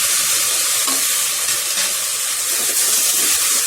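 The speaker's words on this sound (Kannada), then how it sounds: "ಈಗ ಸ್ವಲ್ಪ ಸಿಮ್ನಲ್ಲೇ ಇದಿಷ್ಟು ಫ್ರೈ ಆಗಲಿ" Egg masala for egg biryani fries on low heat in a pan with a steady, close, dense sizzle and hiss, broken by faint stirring scrapes.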